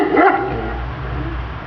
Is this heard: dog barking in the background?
yes